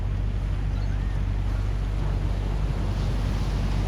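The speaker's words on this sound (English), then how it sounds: "If you ignore the noise of the tractor that's behind me" Low, steady engine rumble from a tractor running behind an outdoor café spot, mixed with constant wind noise across the microphone, continuous and fairly loud throughout.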